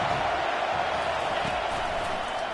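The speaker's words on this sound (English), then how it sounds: "This crowd knows they have to bring it in big moments, and one of those has arrived" A big football stadium crowd at a Georgia game roars in a steady, dense wall of cheering that holds loud and unbroken from start to finish, with no other sound standing out.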